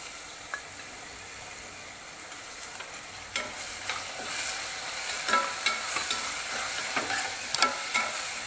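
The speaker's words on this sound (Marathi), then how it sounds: "इथं आपण चना डाळात पण घालूया म्हणजे त्याच्याबरोबरच परतली जाईल" Chana dal being sautéed in a pan, a continuous frying sizzle with scattered stirring scrapes and clicks that grow slightly busier toward the end.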